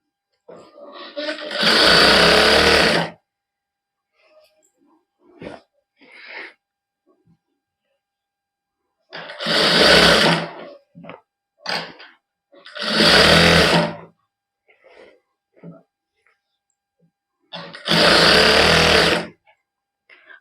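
A sewing machine stitches a salwar in four loud, close bursts of rapid whirring, each lasting a second or two, with someone talking in the pauses between them.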